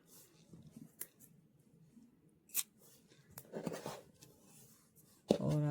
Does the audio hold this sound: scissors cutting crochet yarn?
yes